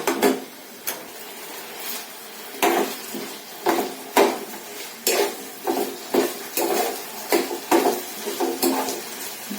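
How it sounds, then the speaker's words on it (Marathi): Potatoes being softened in oil in a pan are stirred and scraped with a utensil, giving repeated clattering scrapes at an uneven rhythm over a faint sizzle. "बटाटे तेलावरती चांगली परतून घ्यायचे, की जेणेकरून ते चांगलं म्हणजे मऊ झालं पाहिजे"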